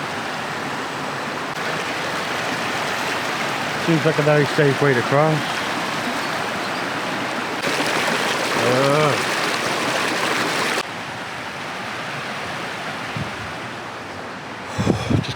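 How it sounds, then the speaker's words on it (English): Steady broadband rush of a river flowing beside a road near a Swiss village, continuous throughout with someone talking over it in places. "This river is stunning."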